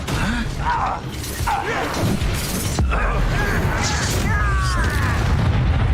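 Bombarda spell explosions in the Hogwarts Legacy video game: repeated loud booming blasts and thuds over dense, continuous combat noise, with speech mixed in.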